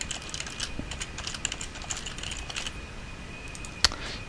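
Quiet, steady clicking of a computer keyboard as text is typed into a Simulink model, with close, irregular keystrokes and one sharper tap near the end, no speech.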